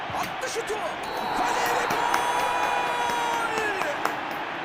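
A large stadium crowd roars and cheers steadily in a PES 13 football video game, with scattered clapping and whistles under the broad wash of noise.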